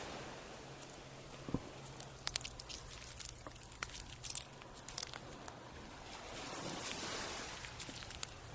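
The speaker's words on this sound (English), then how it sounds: "Let me see if I can't record my feet on the shells." Footsteps crunch over beach shells on an early morning walk by the water, faint scattered crackles and crisp crunches at an irregular walking pace over a low, steady background hum.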